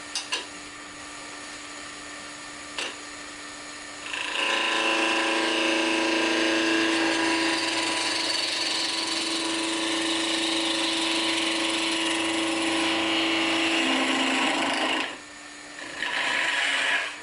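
Wood turning on a lathe under a spindle gouge, a steady motor hum joined after a few seconds by a loud sustained cutting whir that dips briefly near the end before resuming.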